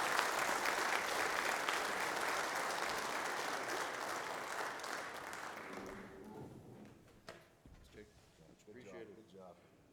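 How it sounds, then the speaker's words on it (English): Conference audience at a mining health and safety event applauds Cementation's third straight Moran Group Global Award: loud, dense clapping that holds steady, then fades after about six seconds as voices begin talking. "Let's give a round of applause."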